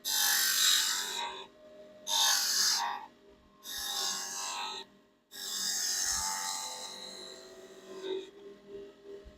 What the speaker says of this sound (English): now I'm going to take this and just give this end a slight little round over.